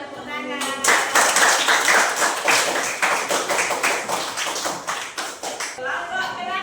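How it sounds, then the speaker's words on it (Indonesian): A classroom group bursts into loud, close hand clapping for a finished group presentation, with many hands beating fast and steady for several seconds before tapering off, and a voice speaks briefly at the start and end. "tepuk tangan."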